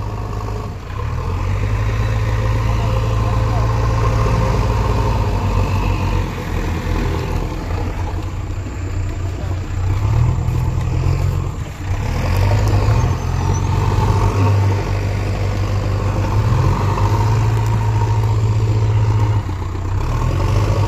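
Several tractors and JCB excavators strain together to drag a stuck sugarcane trailer, a loud, continuous deep engine drone with shifting low rumble and brief dips in load, steady throughout with no talk.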